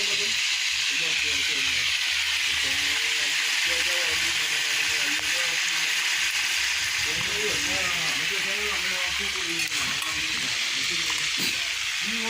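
A pot of brown stew chicken boils on the stove, giving off a continuous steamy hiss with bubbling underneath, while voices talk faintly throughout.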